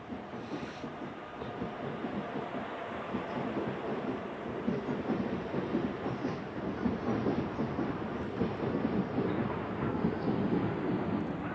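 A goods train rolls in at a hill station, a steady broadband rumble of wagons holding at even loudness and lasting the whole stretch, with no voices over it.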